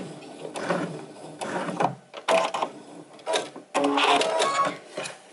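Sewing machine stitching the fabric of a soup bowl cozy and then backstitching, heard close up as several short whirring bursts of needle action with brief pauses between them.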